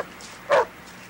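A single sharp dog bark rings out nearby, brief and clear against a quiet room background.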